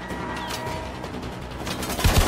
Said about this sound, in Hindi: गोलियां पड़ रही हैं लेकिन नजर नहीं आ रही